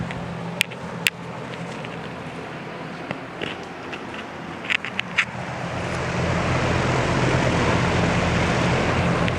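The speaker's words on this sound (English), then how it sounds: "Let's go ahead and get a better sound of the motor, though." A vintage Lakewood Country Aire 20-inch box fan motor runs close up, with a few clicks before a steady whooshing hum swells and holds as the speed rises.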